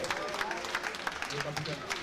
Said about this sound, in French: On applaudit pour cette belle équipe d'Adjong